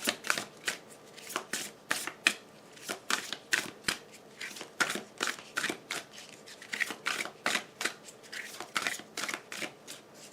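Oracle cards are shuffled for a reading, giving quiet, rapid riffling bursts that repeat in an uneven rhythm close by, with no speech.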